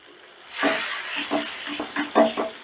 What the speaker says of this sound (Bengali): এবারে গ্যাসের আঁচটা মিডিয়ামে রেখে আমি ডিমের ভুজিটা তৈরি করে নেব